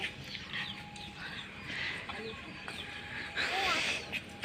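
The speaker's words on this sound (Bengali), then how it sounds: "এটা কি আপনার মুরগি সব?" Chickens cluck and call near a rural home, brief bird sounds scattered over moderate background noise while people talk nearby.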